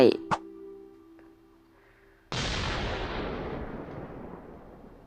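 A few faint clicks and a brief tone, then a sudden loud explosive boom from a bomb in the video game Mini World: CREATA that rumbles and slowly fades out over several seconds.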